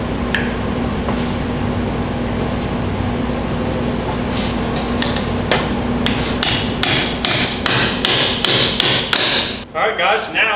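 A hammer knocks an axle cap back onto a 3-rib bus transmission axle, with scattered blows at first, then a quick run of sharp metallic strikes toward the end.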